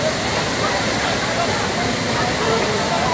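A burst main water pipeline in Powai gushes with a loud, continuous roaring rush of water, steady and close throughout.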